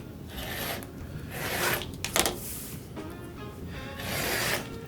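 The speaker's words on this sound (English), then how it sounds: "I'm gonna cut that off right there, and I'm gonna cut down the sides." Scissors cut through T-shirt fabric for a quilt, giving repeated close rasping snips and slides in several strokes, with no one speaking.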